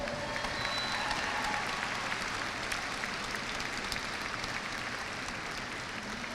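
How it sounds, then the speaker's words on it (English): Sustained crowd applause at a 2017 high school graduation ceremony, steady dense clapping throughout for a round honoring top scholars, fairly loud and unbroken. "Let's give our top scholars a traditional Tiger round of applause."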